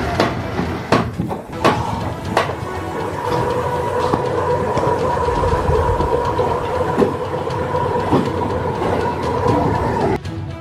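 A CNC 4T wood veneer peeling machine processes rough logs into veneer sheets. It makes a steady, loud mechanical drone with a sustained whine, and a few sharp clacks come early. No one speaks.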